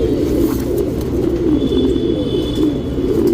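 Tournament-quality racing pigeons cooing continuously in a loft, a low, close, steady rolling coo that fills the whole stretch with no speech.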